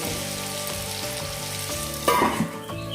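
Raw mango methamba sizzles and bubbles in a pan while a spoon stirs it up and down, giving a steady close frying hiss with a louder scraping stir near the end.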